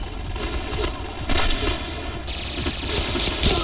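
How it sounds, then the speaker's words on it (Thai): Rapid automatic gunfire in the Point Blank shooter game, dense rattling bursts running almost continuously with a brief louder stretch, close and loud, no talking. "ขอยิงใครสักคนนึง ผมไม่ได้เล่นปืนนี้มาสิบปี"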